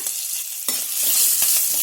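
Hot oil bursts into loud crackling sizzle as green chillies and curry leaves are dropped in for tempering, the hiss swelling and continuing steadily, close up with no voices.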